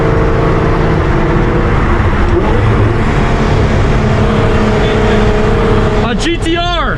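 A 1300 bhp Nissan R35 GT-R with a twin-turbo V6 on E85 roars loudly at full throttle. The dense engine drone holds steady, then surges into a sharp rising rev near the end.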